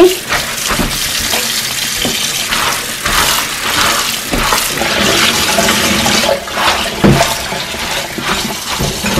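Spinach being washed in water at home, a continuous loud splashing and swishing with repeated sloshes and drips throughout, no talking heard.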